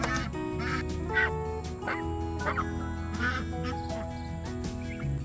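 A flock of homestead ducks quacks loudly and steadily up close, many overlapping calls sounding in a continuous busy chorus with no talking.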